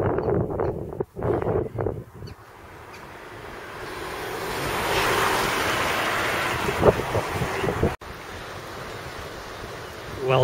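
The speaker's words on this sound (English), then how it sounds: "it's a bit blustery in Caerphilly this morning" Blustery morning wind in Caerphilly buffets the microphone outdoors, a loud rushing roar that swells and dips, broken by a couple of short pauses and gusts.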